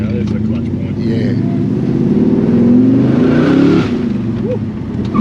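A 1971 Ford XW GT Falcon accelerates away from the clutch point, its engine a loud steady droning roar that rises in pitch, heard from inside the car with people talking over it.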